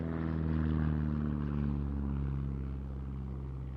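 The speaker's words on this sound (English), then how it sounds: "The Bücker biplanes, both the two-seat Jungmann, like we see here" A Bücker Jungmann two-seat biplane flies past, its propeller engine giving a steady, fairly loud drone with strong low harmonics that eases slightly toward the end, heard alone.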